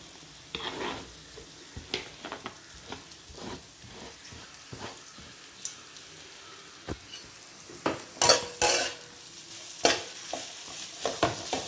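Beans, carrot and cabbage stir-fry in a pan for vegetable fried rice, with a steady low sizzle under repeated close scrapes and clinks of a spatula against the pan, no talking.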